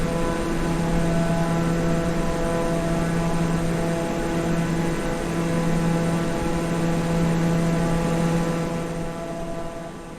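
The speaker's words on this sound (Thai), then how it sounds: "เดี๋ยวผมอาจจะลดเสียงเครื่องยนต์ลงนิดหน่อย นะฮะเพื่อที่ว่า เสียงเครื่องมันจะได้ไม่ดังมากนะฮะ" Steady droning engine of a small propeller airplane on a sightseeing flight over Phuket, loud and continuous with a constant low hum and strong tonal harmonics from start to finish, with no talk.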